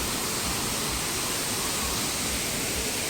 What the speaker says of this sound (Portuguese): Essa aí é a cachoeira.